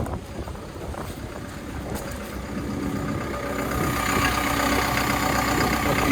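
A boat engine running steadily just after starting, a continuous close rumble with wind noise over the microphone, no speech.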